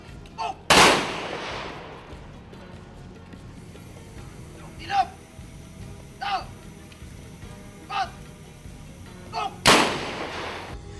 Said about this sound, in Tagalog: Midalit og 21 gun salute ang kapulisan